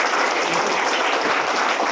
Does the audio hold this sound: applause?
yes